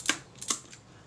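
Shutter of a Kodak Retina IIa camera, partly disassembled, cocked and then fired: two crisp close mechanical clicks about half a second apart, with a faint lighter tick after them.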